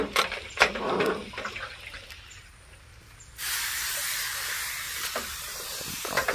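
Water is sprayed onto long pepper (kemukus) plants on bare soil, starting as scattered rustles and light taps. Then a steady, broad hiss of spray sets in halfway through and runs close and fairly loud to the end, with no talk.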